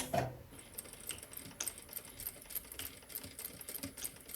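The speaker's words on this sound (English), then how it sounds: "you're actually just sewing a few little stitches really across that bar" A sewing machine stitches a small bar across a buttonhole on a pair of trousers, making a faint, rapid, rhythmic clatter of needle strokes that runs steadily and close by, with no talking.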